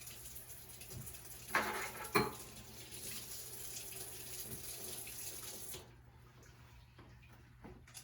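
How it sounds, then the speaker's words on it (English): Water runs steadily from a tap as dental handpieces are rinsed beneath it in a sterile processing sink, with a couple of sharp knocks of metal against the basin before the flow cuts off near the end, leaving quiet room tone. "Rinse my hand pieces."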